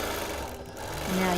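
A machine hums and chatters briefly while quilting a navy blue border on a Quilt of Valor, its steady motor drone close and continuous over a short moment.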